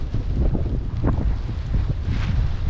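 Wind gusting outdoors on an early morning walk after a night of snowstorm, heard as a steady low rumbling buffet across the microphone with brief swells, fairly loud and continuous, no speech.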